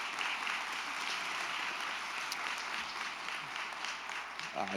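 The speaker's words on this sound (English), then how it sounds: "how about a round of applause for our Eagle Scouts?" A crowd at a school board meeting gives a sustained round of applause for Eagle Scouts, a steady, even roar of clapping from many hands that holds for the whole stretch.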